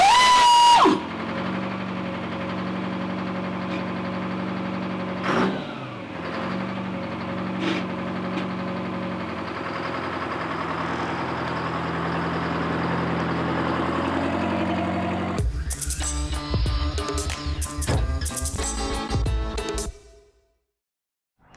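A 453T Detroit Diesel engine in a 1977 International Loadstar 1800 truck fires up on air start, then idles loud and steady up close with a broad droning rumble, ending in a burst of rapid clattering before cutting off.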